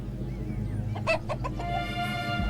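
Chickens clucking nearby, a cluster of short clucks followed by a drawn-out call over a steady low background hum.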